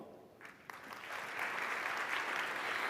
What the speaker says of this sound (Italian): Anche per lei l'applauso del Giovanni da Udine.